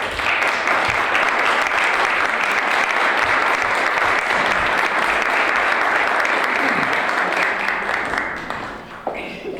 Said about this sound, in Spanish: les damos paso con un fuerte aplauso